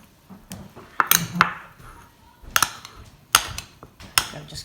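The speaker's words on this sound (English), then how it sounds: "I'm just cutting the last bit of this butter up" A knife chops butter into pieces on a board for Jamaican patty pastry, making sharp, irregular taps and clicks in small clusters with quiet gaps between them.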